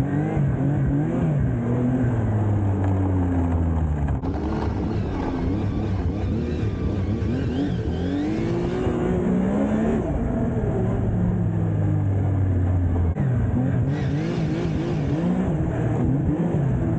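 An Arctic Cat Riot 270HP snowmobile revs hard, its engine roaring loud and close and climbing and falling in pitch through repeated throttle pulls, with no pause in the noise.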